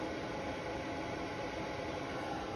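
Cooling fan for A/V equipment running on high speed, a steady broadband whooshing hum with no change, fairly quiet and alone.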